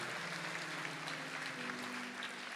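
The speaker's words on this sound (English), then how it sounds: "So how about another round of applause for both Ron and Laura?" Audience applause at an awards ceremony, a steady wash of clapping from a crowd heard at moderate distance, even and sustained throughout.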